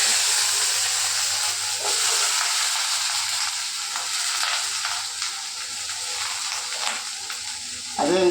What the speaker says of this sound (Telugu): ఆ నూనెలో దొండకాయలు వేసుకున్నాను.